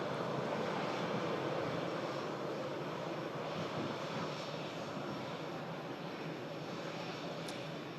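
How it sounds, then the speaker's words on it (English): An EasyJet airliner lands at Manchester Airport, a steady, broad engine roar that holds at an even, fairly loud level throughout with no talking. "EasyJet next to land in from Amsterdam"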